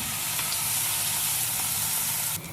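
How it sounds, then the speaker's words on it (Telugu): Paneer pieces shallow frying in hot oil give a loud, continuous sizzle that drops away abruptly near the end. "100 గ్రామ్స్ పన్నీర్ని షాలో ఫ్రై చేయాలి"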